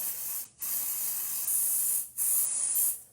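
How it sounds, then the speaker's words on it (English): Several close aerosol spray bursts hiss in a row onto a stencil, each a steady blast separated by short pauses, with no voices. "spray it about 6 inches away, 6 to 12 inches away from your stencil"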